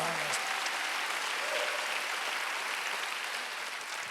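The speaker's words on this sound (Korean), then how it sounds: "박수야." Sustained applause from a church congregation during a Sunday service, dense steady clapping throughout that fades slightly toward the end.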